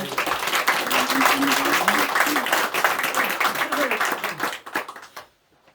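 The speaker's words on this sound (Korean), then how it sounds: "우리 박수 한번 하겠습니다" Congregation applause during a Sunday morning church service, loud, crisp clapping with a voice talking over the start that tapers to scattered claps and then stops abruptly.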